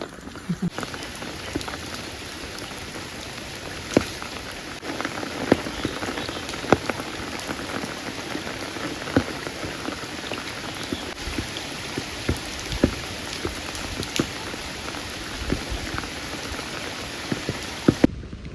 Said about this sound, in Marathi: पाऊस आहे ना जोरदार चालू झाला आहे पाऊस